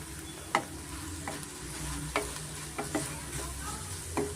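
Chilli and coriander powder roast in hot oil for mutton sambar as a constant close sizzle, broken by several sharp scrapes and taps of a spoon stirring in the pan, with no voices.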